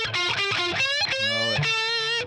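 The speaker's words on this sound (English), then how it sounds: "So once you put distortion in." Electric guitar run through a distortion pedal, humbucker pickups giving a screamy, biting tone: a loud, sustained overdriven phrase of several bent and held notes, played alone with no talking.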